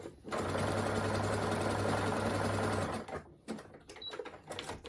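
A sewing machine stitches the side seam of a striped T-shirt, a steady loud whirring run of about three seconds, followed by quieter clicks and fabric handling.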